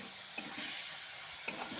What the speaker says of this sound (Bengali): এখন আমি সমস্ত কিছুর সাথে আলু আর চালটাকে কষে নেব